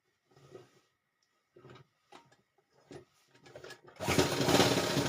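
A sewing machine stitches a pillow cover in several short, quiet bursts separated by pauses, then breaks into a louder, sustained run of stitching at the end.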